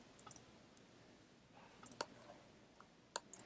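Faint, sparse mouse clicks while selecting files in Google Drive, with single and doubled taps spaced unevenly over a quiet background.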